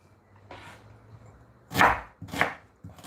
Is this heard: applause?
no